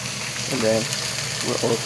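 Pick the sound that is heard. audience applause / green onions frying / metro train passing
green onions frying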